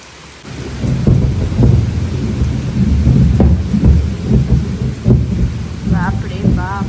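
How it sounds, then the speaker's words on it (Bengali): A heavy thunderstorm: loud, rolling thunder rumbles over a steady roar of hard rain, close and continuous, with a brief voice near the end. "বাপ রে বাপ, জোরে জোরে মেঘ ডাকছে।"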